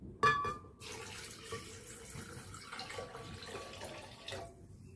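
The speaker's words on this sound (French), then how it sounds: "Et je vais rajouter 500 ml d'eau, l'eau du robinet." Tap water flows from a kitchen faucet for adding 500 ml of water to almonds, a soft steady stream starting with a brief splash and running faintly until it cuts off near the end.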